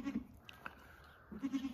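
A horned nanny goat, a dairy goat nursing kids, bleats in two short, faint bursts at the start and end, with quiet between.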